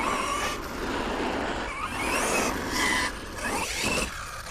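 An ARRMA Kraton V6 RC car on a 6S LiPo with a 16-tooth pinion runs nearby, its electric motor whining and surging in bursts over gritty tyre and chassis noise.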